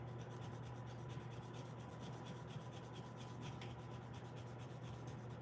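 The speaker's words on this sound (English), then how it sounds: "Just want to sand any little burrs off the top." Light sanding smooths small burrs off the top of a hand engraving, a steady, close, continuous rubbing rasp with no pauses and a constant low hum beneath.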